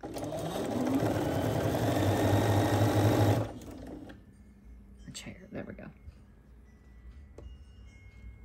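A sewing machine runs in a loud, steady whir for about three seconds, then stops, leaving quieter clicks and fabric handling nearby.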